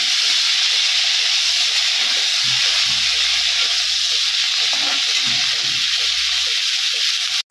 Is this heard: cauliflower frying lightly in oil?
yes